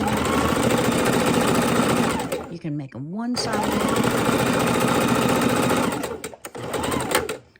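Sewing machine stitching felt, running steadily with a rapid mechanical whir, stopping briefly and restarting, while a person talks over it.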